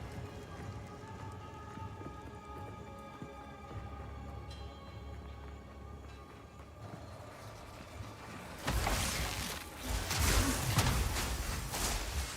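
The Toxic Rain skill effect in the Path of Exile 2 video game plays as a rushing, hissing patter of rain. It swells louder near the end over a quiet background of game music, with no voices.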